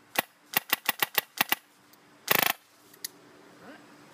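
Polar Star M4 airsoft rifle fitted with a suppressor, firing a string of sharp single clicking shots followed by a rapid full-auto burst, then a lone shot and faint handling noise.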